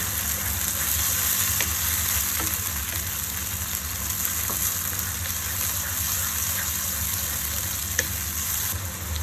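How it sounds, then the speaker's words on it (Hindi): Chopped tomatoes fry in a pan for baingan bharta (brinjal bharta), giving a steady, close sizzle with a faint watery crackle that runs unbroken for the whole stretch, with no talking. "टमाटर जो हैं वो डाल के मैंने इसे अच्छी तरह से भूना और टमाटर भून रहे हैं"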